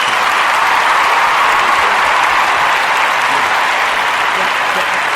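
Steady, dense applause from an audience fills the whole stretch, loud and continuous without a break, as a crowd gives someone a round of hands at a small live village gathering.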